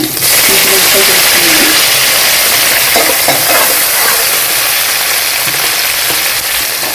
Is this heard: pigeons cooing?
no